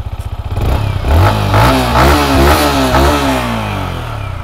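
A 2022 Yamaha MT-15 V2 motorcycle engine starts and is revved repeatedly, rising and falling in quick throttle blips, close and loud, with no talking.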